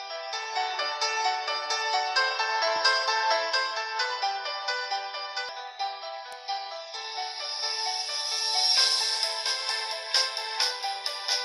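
Tinny music plays from a smartwatch speaker, a bright melodic tune with thin, high-pitched tones and no bass, steady throughout with no talking.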